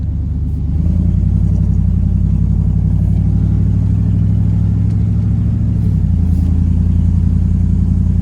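The engine of a $400 truck runs loud and close, a deep steady rumble with a faster idle beat that shifts slightly partway through.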